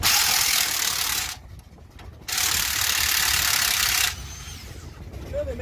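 Ratchet from a socket set clicking in rapid steady bursts, close and loud, with two long runs separated by a brief pause and a quieter stretch after.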